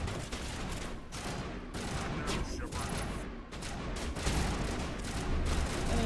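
Gunfire in a video game during a search for the Conduit and missing settlers: dense, repeated bursts of shots and booms in rapid, uneven succession, loud and continuous, with faint game sounds underneath.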